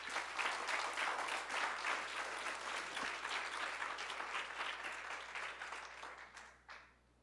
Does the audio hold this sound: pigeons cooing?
no